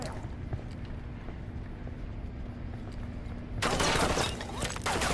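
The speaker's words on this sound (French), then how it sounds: "On est en train de se faire sniper." Gunfire in the video game Ghost Recon Wildlands: low rumbling ambience with faint distant pops, then a sudden loud burst of rapid shots and crackling impacts near the end, close and dense.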